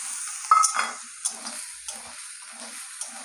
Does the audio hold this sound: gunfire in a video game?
no